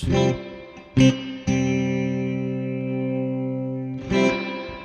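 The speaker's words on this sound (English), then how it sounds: "So first we'll check out the reverb." Sustained guitar chords ring out through a 1970 Fender Twin Reverb amplifier with heavy reverb, each strum trailing a long wet tail; a single spoken word opens it.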